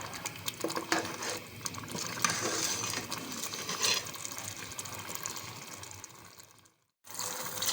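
Water pours steadily into a cooking pot of beef pulao with a continuous splashing hiss, then cuts off for a moment near the end before resuming.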